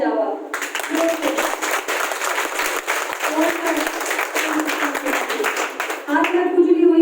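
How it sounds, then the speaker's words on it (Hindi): An audience in a hall breaks into loud, sustained applause that starts abruptly and keeps an even roar of many hands for several seconds, with a voice heard briefly before and after. "एक बार जोर से तालियां बजाओ आप, जोर से।"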